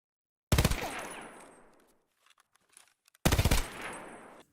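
Two bursts of rapid automatic fire from a stock SA58 rifle in the Escape from Tarkov game, each loud and close with a long decaying echo, separated by a quiet gap with a few small clicks.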